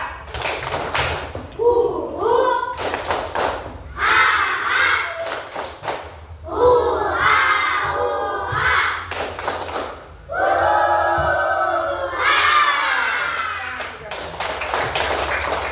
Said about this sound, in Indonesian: Kita mainkan dulu tepuk rimba. 1, 2, 3 ya.